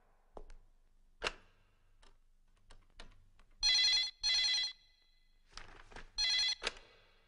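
An old-style telephone bell rings in two short bursts, pauses amid faint clicks and taps, then rings twice more, clear and close.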